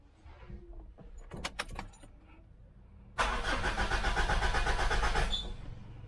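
A car engine cranks and tries to start in a dark cabin after the fuel was pumped, with keys jangling and clicks before a loud, sustained engine roar rises for a few seconds and then fades slightly.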